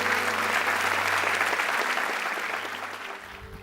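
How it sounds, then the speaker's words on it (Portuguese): A congregation claps during a church service, a dense, steady wash of applause that holds strongly before tapering off toward the end. "Dê o melhor aplauso que você pode dar ao Senhor"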